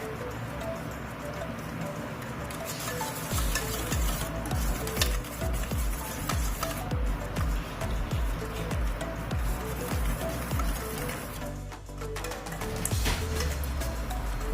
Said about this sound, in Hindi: अब हमने 1 कप दूध ये ले लिया है और हम इसको मिक्स करना शुरू करेंगे